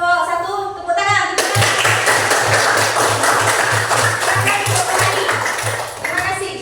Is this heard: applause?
yes